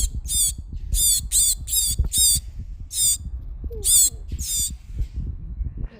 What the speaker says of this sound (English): look at this bird I caught.